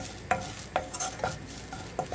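Grated coconut being sautéed in a pan for banana laddu, with soft sizzling under repeated scraping strokes of a spatula, about four evenly spaced stirs, close and fairly quiet.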